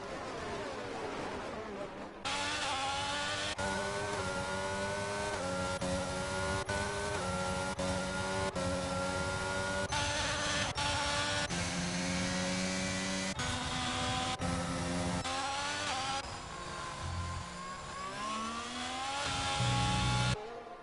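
Alfa Romeo race cars lap the Bahrain circuit, engines wailing and climbing through gears with repeated upshifts, loud and close for nearly the whole stretch after a quieter opening.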